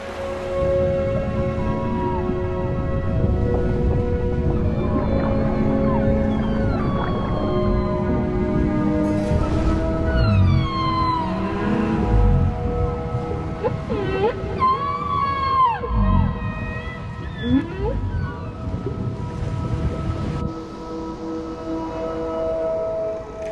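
Humpback whales call among Antarctic icebergs, long rising and falling moans and squeals overlapping one another, loud and close against a constant low underwater rumble.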